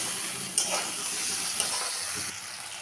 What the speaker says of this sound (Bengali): এখন আমি মশলাটা ভেজে নেব।